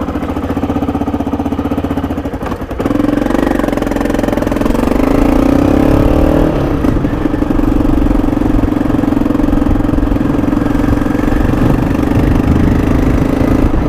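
Motorcycle engine idling steadily, a loud close mid-pitched rumble with a brief dip and a slight rise in revs partway through, with no talking over it.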